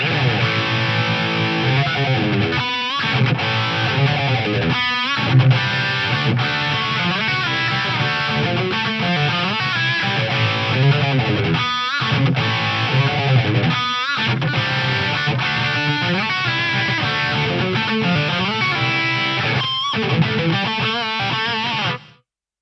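A distorted electric guitar played through a Roland SRV-2000 digital reverb in gated mode, loud and continuous with dense chords and abrupt cutoffs between phrases, with no talk over it.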